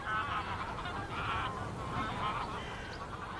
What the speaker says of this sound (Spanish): al millar de parejas reproductoras de gansos que ya hay aquí